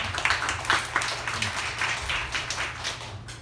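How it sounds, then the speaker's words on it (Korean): A church congregation claps together in thanks during a worship service, a fairly soft, dense patter of many hands that continues steadily without talk. "우리 하나님께 감사하다고 우리 감사의 박수 한번 올려드릴까요?"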